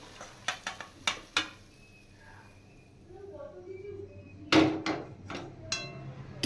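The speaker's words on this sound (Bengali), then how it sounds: "হয়ে গেছে এবার আমি নামিয়ে দেব মাছ ভেজে রেখেছিলাম ওই থালাতেই নামাচ্ছি" Fish fried earlier is moved off the stove onto a plate, with a few sharp clinks and taps of pan and utensils against the dish, then a quieter stretch and another burst of scraping and knocks.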